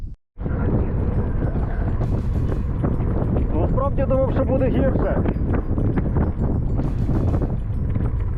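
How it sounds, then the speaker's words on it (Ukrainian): A strong headwind buffets the microphone during a road ride in southeastern Podillia, Ukraine, with a loud, continuous rumble while someone talks over it. "Єдине, що зустрічний вітер сильний, задовбує."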